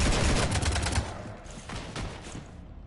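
Sustained automatic gunfire in Mass Effect 3, a dense, loud rattle of rapid shots that is heaviest over the first second, then continues as steady firing with a few sharper bursts.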